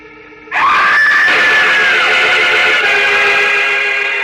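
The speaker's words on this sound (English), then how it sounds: "The girl's horrified scream rises clearly through the night air" A girl's horrified scream in a radio drama set at night, bursting in loud and sustained for several seconds over a faint background rumble.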